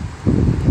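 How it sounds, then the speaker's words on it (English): Gusty outdoor wind buffets an open microphone during motorcycle work, a low, steady rumble that swells louder partway through the short stretch, with no other sounds. "it is windy out here"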